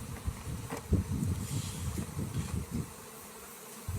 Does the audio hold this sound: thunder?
no